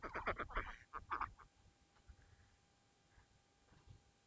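Ducks quack by a stretch of clear open water near Termukh bridge, a burst of several loud nasal quacks at the start, then quieter scattered calls and faint ambient noise.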